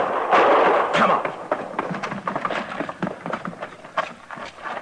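Gunshots crack out in a Western radio drama, several sharp bangs with a scuffling, busy background between them, close and fairly loud.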